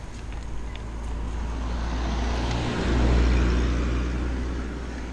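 A car passes close by, a low engine rumble swelling to a peak midway and fading again over steady road noise.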